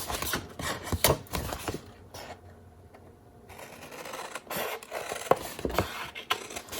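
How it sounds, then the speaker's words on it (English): Paper being cut along the score lines of a box template for a candy box, giving repeated scraping, rasping strokes close by with a short quiet pause partway through. "I'm going to cut all the way down to that second score line."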